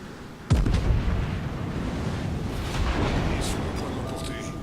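A heavy naval gun blast booms out suddenly in the French battleship game World of Warships, then a long rumbling roar of battle noise and distant explosions hangs on without speech.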